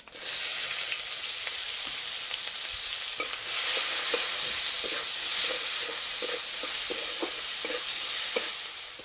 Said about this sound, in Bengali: তেলে দেবো 5 ফোড়ন, তেজপাতা, কোচানো পেঁয়াজ,